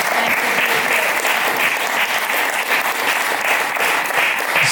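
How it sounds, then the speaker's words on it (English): A large conference audience at a sustainability session gives a dense, sustained round of applause, loud and even throughout with no pause. "Give him a round of applause"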